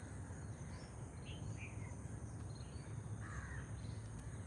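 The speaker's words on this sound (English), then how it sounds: "Hopefully you can hear some of the birds." Crows cawing in a cemetery park in Colombo on a morning, several short calls at moderate distance over a steady background of insect buzz and low ambient hum.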